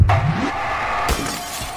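A loud glass pane shatters in Garry's Mod, with a sharp burst of breaking followed by a second crash and tinkling debris, heard alone without talk.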